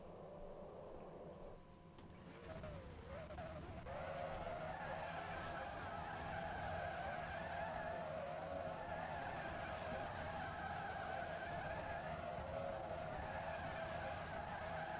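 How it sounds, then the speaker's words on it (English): Simulated NASCAR stock car in NASCAR Racing 2003 holding a sustained burnout, a steady loud tire squeal and revving engine drone that swells after a brief dip and holds at full level to the end. "he's burning out as long as the flag man is waving that yellow flag"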